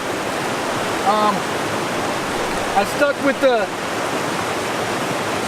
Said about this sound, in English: the bottom tail end of this waterfall stream